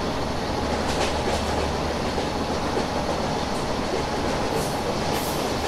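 A Sampark Kranti train overtaking the Humsafar Express in the IR-MSTS railway simulator, with a loud, steady rumble of rolling wheels and rail clatter and faint squeals up high.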